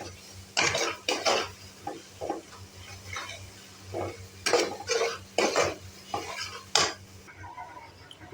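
A spoon scrapes and clatters in a pan of frying onion, ginger and garlic, several sharp metallic strokes at irregular intervals over a faint continuous sizzle and a low steady hum.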